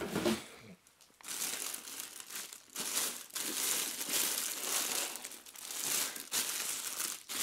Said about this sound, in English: open up the plastic bag